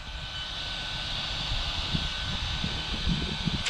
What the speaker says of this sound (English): that motor's burning up